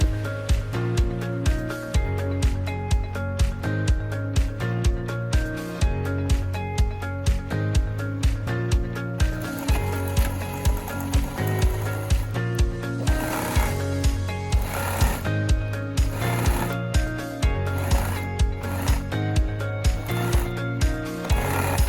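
A sewing machine stitches lining onto a fabric layer for a revere collar, running in a steady mechanical rhythm with a short pause before continuing, close and clear with no talk.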